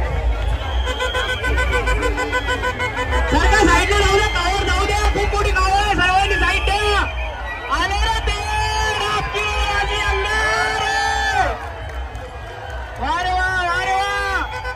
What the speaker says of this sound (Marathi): आलेली आहे डाबखिरोड वासी आणि बघूया त्यांचा जल्लोष